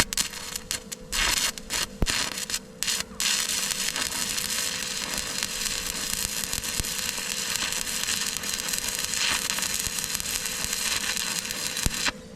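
Tack welding on a joint of an off-grid tiny house cabin, a steady crackling, sizzling arc that runs continuously and fairly loud up close, with a few brief breaks near the start.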